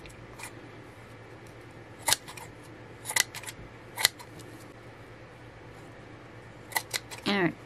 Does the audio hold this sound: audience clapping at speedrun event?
no